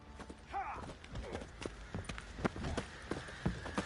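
Horse hooves clip-clop in The Witcher 3 video game, a quiet irregular run of hoofbeats mixed with game ambience and faint voices in the background.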